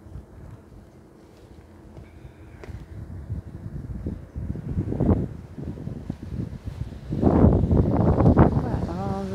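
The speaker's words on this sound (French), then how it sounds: "Il y a le vent qui souffle aujourd'hui." A strong mistral wind on a cool November morning at a bus stop buffets the microphone in loud, rumbling gusts that build and swell toward the end.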